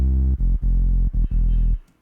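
Two stacked sub bass synths pound out a heavy, sustained low drone in an electronic remix drop, chopped into short rhythmic bursts with brief gaps before fading out.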